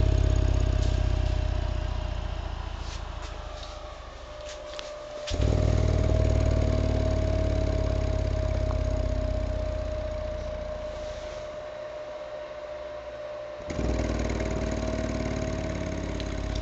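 A 12-inch Lightning Lab subwoofer with 30mm X-max pumps out loud, droning bass with a buzzy edge and a steady tone riding on top. It fades, then surges back louder about a third of the way in and again near the end.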